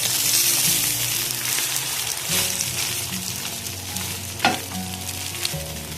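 Three beaten eggs seasoned with salt and ground black pepper fry in a pan, giving off a loud, continuous sizzle with a few low clunks as the pan is handled.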